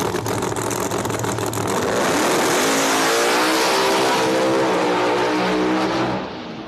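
No-prep drag race cars roar past at full throttle, loud and sustained, with the engine pitch climbing as they accelerate before the sound cuts off abruptly.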